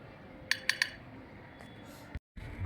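A spoon strikes the hard shell of a wood apple (kodbel) three times in quick succession, sharp knocking clicks close to the microphone over a quiet rooftop background, followed by a brief dull crack.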